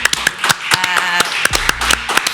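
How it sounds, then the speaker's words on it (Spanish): An audience gives a round of applause at a Chilean event honoring Uchile TV, a dense burst of close, sharp hand claps with uneven rhythm, loud throughout and with no talking over it. "darle un aplauso a todo, a Uchile TV"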